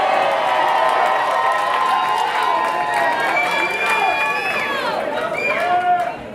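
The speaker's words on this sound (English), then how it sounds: "Should y'all cheer for that more than when he said Jesus?" A concert audience at a Philadelphia gospel show cheers and whoops loudly and steadily, a dense wash of many voices sustained throughout with rising shouts toward the end.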